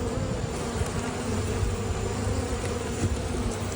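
Honeybees in an open hive buzz as a dense, steady drone of many wings, close and continuous with no voices.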